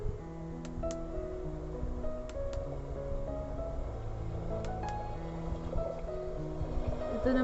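An owl-shaped essential oil diffuser plays a steady recorded ocean-wave soundscape, a continuous wash of surf layered with faint tonal notes and occasional soft clicks, at a low even level with no talking.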